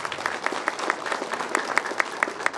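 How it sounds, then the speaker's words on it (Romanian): Crowd applause at a mayoral candidacy launch event, a faint, steady patter of many hands clapping with sharp individual claps standing out, heard from a distance throughout. "Încă o dată aplauze"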